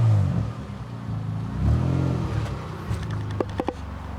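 A 2.5 litre V6 in a worn MG ZS track car build revs up once with a rising engine roar, close by, then settles toward idle with a few clicks and knocks.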